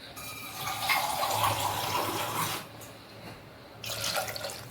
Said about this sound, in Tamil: தண்ணியை ஒரு 2 கிளாஸ் அளவுக்கு நான் ஊற்றுறேன்